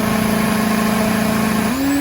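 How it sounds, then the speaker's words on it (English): Turbo drag racing bikes at a racetrack, a loud sustained engine drone with a steady tone that shifts upward near the end, tire grip blending into the roar. "You can hear that massive drag slip grip the racetrack."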